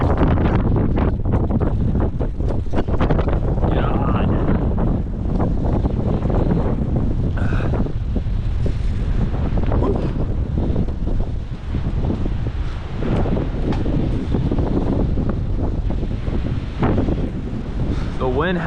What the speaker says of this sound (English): The wind has to pick up at the worst time though.